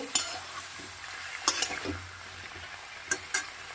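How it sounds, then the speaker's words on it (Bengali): Vegetable curry ingredients are stirred in hot oil with a faint, low sizzle and a few sharp utensil scrapes and clinks against the pan, fairly quiet overall. "এইবার এই সমস্ত উপকরণগুলো দিয়ে একটু ভালো করে আমরা তেলের মধ্যে নাড়াচাড়া করতে থাকবো"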